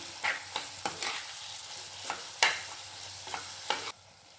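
Citron pickle pieces are sautéed with spice powder in a pan, giving a soft steady sizzle broken by several sharp scraping stirs of a spoon, close and moderately quiet, ending abruptly.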